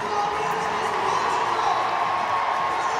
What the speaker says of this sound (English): And welcomed by the sizable crowd, Stadium MK.